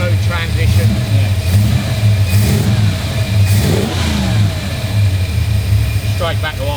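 A Cobra replica car's engine, loud and close, revs up and falls straight back to a steady idle, a deep rumble that holds throughout.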